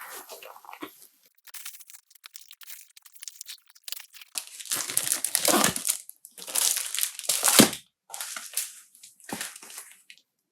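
Bubble wrap heavily covered in tape being pulled off a parcel, close-up bursts of crinkling, crunching and tearing plastic in irregular clusters separated by short quiet pauses.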